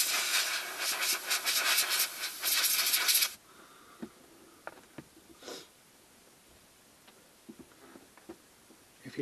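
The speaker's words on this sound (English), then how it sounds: "get yourself some of these air duster cans" A can of compressed air duster blasts a reamed metal part in a workshop, one loud hissing burst for about three seconds, then quiet with scattered small clicks and taps.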